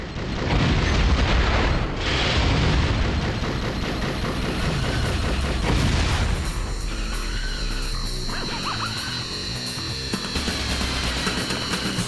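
Missile explosions and booming impacts in Twisted Metal, loud bursts of blasts in the first half giving way to mechanical rattling and vehicle noise, with no talk over them.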